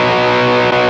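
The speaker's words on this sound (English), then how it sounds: "my B is the heavy distortion, the two-stage distortion" Electric guitar played through the heavy two-stage distortion channel of a Strymon overdrive pedal: a thick, saturated sustained tone, steady and loud for the whole second with a brief dip near the end.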